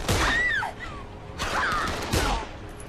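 Gunfire in the zombie video game Dead Island, a few sharp broadband bursts spaced about a second apart, mixed with whooshing game effects and a strained vocal cry.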